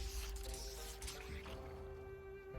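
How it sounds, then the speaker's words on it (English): Water runs from a sink tap into a canteen in Project Zomboid, a steady liquid fill with drip-like splashes and a ringing tone under it, fairly quiet and continuous, no voices. "I'm gonna fill my canteen with water."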